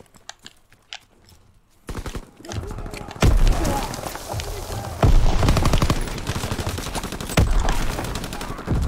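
A grenade explosion during a fast Call of Duty WW2 match on the Shipment map, loud and close, buried in dense, continuous gunfire and booming impacts that build after a quieter start.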